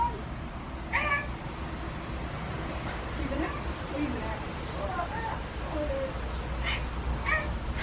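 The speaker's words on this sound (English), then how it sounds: "he's sitting there bloody meowing" A pet cat meows repeatedly in a home, several distinct mid-pitched calls spread across the stretch with some background voice and room noise.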